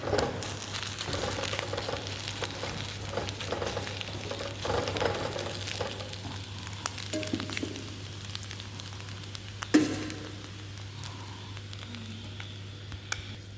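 Scrambled egg bread upma frying and being stirred in a pan, giving a steady close sizzle with scraping and crinkling from the stirring and an occasional louder knock of the spoon on the pan, with no voices.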